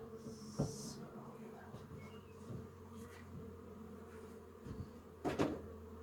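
Honeybees hum faintly around an expanded hive with brood deeps during beekeeping, with scattered soft buzzes passing near, light bumps and rustling of handling over a quiet background.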